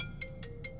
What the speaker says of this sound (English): I got a call coming in.